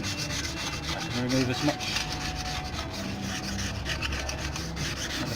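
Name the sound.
scraper scraping clear coating off a boat propeller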